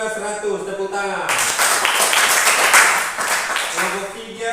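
Applause from a group at a classroom assessment breaks in after a short spoken line, sustained, fairly loud clapping from many hands lasting a few seconds, with the voice returning as it fades.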